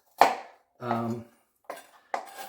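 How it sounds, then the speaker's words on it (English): An onion being chopped roughly on a cutting board, four separate knife knocks spaced apart, close and fairly quiet, with brief pauses between strokes. "you don't have to chop this real fine"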